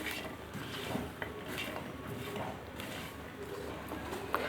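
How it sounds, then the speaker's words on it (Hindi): Butterscotch popcorn is stirred quickly in a pan, with steady scraping and clinking of a spoon against metal and a few sharper knocks, fairly quiet and close. "बहुत अच्छी तरह से मिक्स करते हैं जल्दी जल्दी में।"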